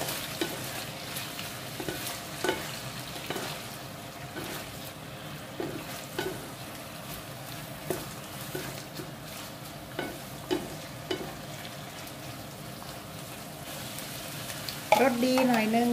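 Bean sprouts stir-fried with pork blood, garlic and shallots: a low continuous sizzle with regular spatula scrapes and taps against the pan, fairly soft, with a brief voice near the end.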